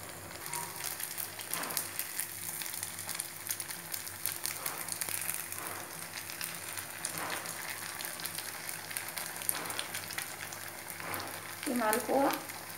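Mawa malpua, khoa pancakes, frying in a pan over medium heat, a steady crackling sizzle with occasional soft utensil sounds and a brief louder disturbance near the end.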